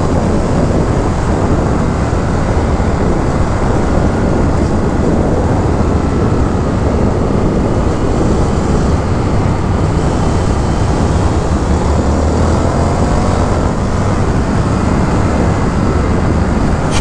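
A 2023 Indian FTR R Carbon motorcycle accelerating hard, its engine roar loud and continuous alongside heavy wind rush, steady for the whole stretch with no talking.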